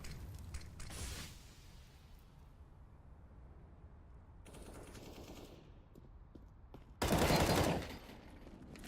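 Bursts of automatic gunfire in Counter-Strike: Global Offensive during a competitive match, a short volley near the start, a softer rattle midway and a loud close burst near the end over quieter game ambience.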